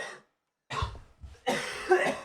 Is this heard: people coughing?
yes